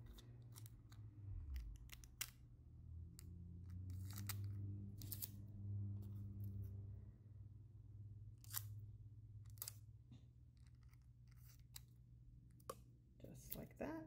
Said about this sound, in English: let's trim off these edges because you're only going to want the actual heart